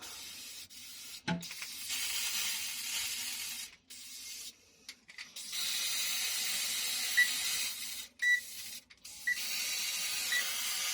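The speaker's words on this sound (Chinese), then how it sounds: "然后我们开始喷那个铁乐士喷漆。" Rust-Oleum spray paint is sprayed inside a closed acrylic box, giving sustained airy hissing bursts separated by short silent gaps, with faint rattles between the sprays. The sound is close and moderately loud, with no voices.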